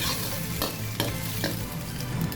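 Shrimp stir-frying in a pan makes a loud, dense sizzle, broken by a few sharp scrapes and knocks of a utensil as it is tossed, with no voices.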